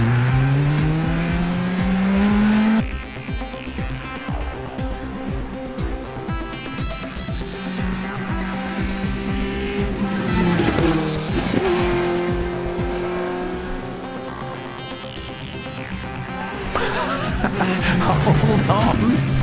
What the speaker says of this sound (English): Listen carefully to those two engines, and you can almost hear that they're running independently of each other.